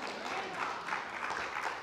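A church congregation claps together in a steady, dense burst that is loud and continuous through the short moment, with some crowd noise mixed in.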